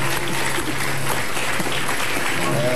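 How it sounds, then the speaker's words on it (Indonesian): Studio audience of the Indonesian talk show Hitam Putih applauds in a steady, even wash of clapping that holds at one level from start to finish. "Boleh tepuk tangan dulu."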